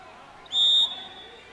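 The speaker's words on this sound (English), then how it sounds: "There's the whistle." A referee's whistle at a girls' or boys' water polo match blows one clear, loud, steady blast of about a third of a second over a background of crowd noise and commentary.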